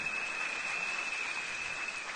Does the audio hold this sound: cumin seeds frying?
no